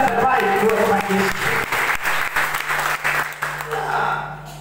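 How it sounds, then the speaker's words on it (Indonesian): Church congregation applauding during a sermon, dense clapping that fades over a few seconds while voices carry on underneath. "Beri tepuk tangan yang terbaik buat Tuhan Yesus."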